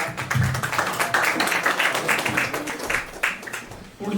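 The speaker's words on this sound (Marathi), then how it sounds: "आदित्यसाठी एकदा जोरदार जोरदार टाळ्या." A talent show audience claps steadily and fairly loudly for a contestant, a dense continuous patter of many hands that fades out near the end.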